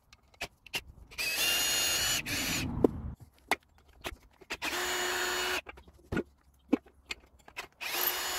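A power drill whirs in several bursts of a few seconds each, unscrewing bolts from metal garden chairs bought cheaply from a store, with clanks and tool handling between the runs, close by and without talk.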